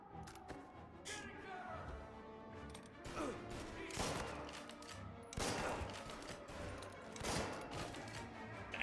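Rifle gunfire from the game Mafia Definitive Edition, loud cracking shots fired in a rapid series with crashes and impacts mixed in, and no talking over them.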